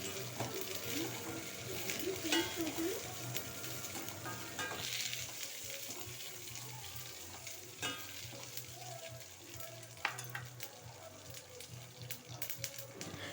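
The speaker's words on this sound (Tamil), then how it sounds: "இப்போ இதை மறுபடியும் வதக்கணும்." Green chillies, sesame seeds and peanuts sautéing in a pan, a soft continuous sizzle with repeated stirring and scraping strokes, fairly quiet and close, with a few clicks and knocks along the way.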